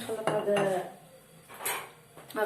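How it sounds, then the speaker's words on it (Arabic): A utensil clinks and scrapes against a bowl while salad dressing ingredients are mixed with oil, a few distinct, close metallic knocks with brief pauses between them. "نخلطهم ونزيد عليهم شويه د الزيت"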